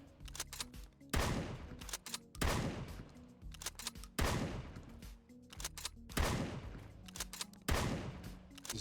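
Remington 870 pump shotgun (RM870) firing in the survival shooter Road to Vostok, five loud booming shots spaced about two seconds apart, each followed by a short mechanical clatter of the pump action.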